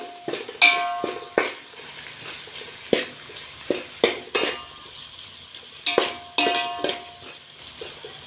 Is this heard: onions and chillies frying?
yes